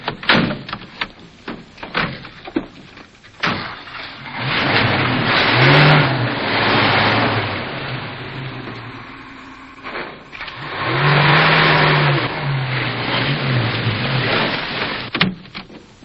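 Truck doors thump shut in a 1940 serial, a few sharp knocks up front, then the truck's engine swells into a loud rumbling drive-off that fades and surges again, with clattering bangs near the end.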